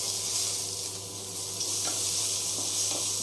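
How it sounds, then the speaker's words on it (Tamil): Mustard seeds, dried and green chillies and chopped shallots sauté in hot oil in a pan for sambar, giving a steady close sizzle with faint stirring clicks and no talk. "கடுகு, காஞ்ச மிளகாய், பச்சை மிளகாய்லாம் சேர்த்து லைட்டாக ஒரு வதக்குங்க."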